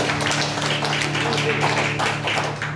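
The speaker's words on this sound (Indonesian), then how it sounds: "Berikan tepuk tangan buat Tuhan kita" A church congregation at a Sunday worship service claps together in quick, uneven bursts, loud and close, over a low steady hum.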